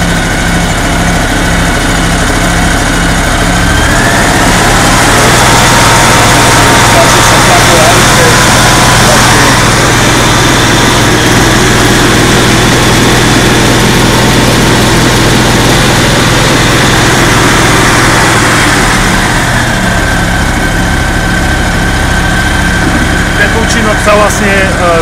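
The engine of a pipe-cleaning jetting machine rises from idle to a loud, sustained revving roar for most of the time before settling back down, heard close by with a person speaking over it.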